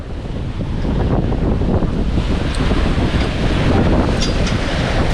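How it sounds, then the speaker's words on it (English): Wind roars loudly over a sailing boat as a gale begins at sea, a constant heavy rush mixed with crashing waves and microphone buffeting, with no voices. "Right now, we are sitting in the start of a gale."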